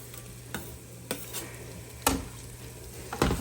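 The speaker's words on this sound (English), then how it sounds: "Put my peppers in, start sauteing." Peppers and onions sauté in a pan for Southern BBQ baked beans, a low continuous sizzle with four distinct scrapes and clacks of the spoon stirring them, nearby and fairly quiet, no one talking.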